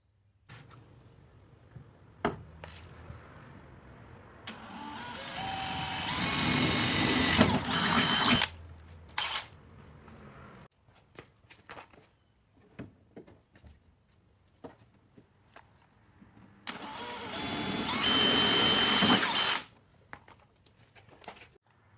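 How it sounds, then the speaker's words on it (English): A drill bores holes through a BMW E30 apron and metal valance in two loud, sustained bursts of several seconds each, separated by quieter handling clicks and knocks. "all 6 holes are now drilled on the apron and on the valance"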